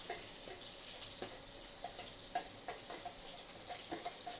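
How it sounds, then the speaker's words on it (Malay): Blended spice paste crackles and sizzles faintly in a hot wok, with scattered sharp pops and ticks over a soft steady hiss. "Kita cebur dalam kuali yang panas."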